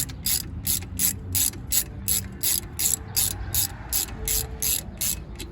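A ratchet drives a brake caliper bolt on a 2006 Buick LaCrosse CX during a front brake replacement, giving a loud, close series of rapid clicking bursts in a steady rhythm, with no voices.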